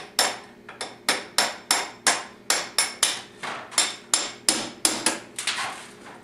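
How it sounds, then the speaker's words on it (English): Metal hammer blows tap a bolt through a Yamaha Blaster ATV swing arm via a 1/4 inch extension, about eighteen sharp, evenly spaced strikes close up with ringing decay, no talking. "So now I'm going to go tap this bolt all the way through."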